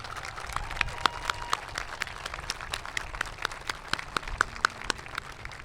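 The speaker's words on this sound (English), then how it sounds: "Another round of applause, please" Applause from an outdoor crowd at a veterans' dedication ceremony, many hands clapping at once in a steady, dense patter that holds at moderate level throughout, with no talking over it.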